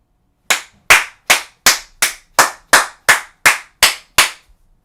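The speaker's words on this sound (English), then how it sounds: "You see, it's so loud when it claps." Eleven loud, sharp slaps of bare buttocks clapping in a quick, even rhythm, close up with brief silences between each smack.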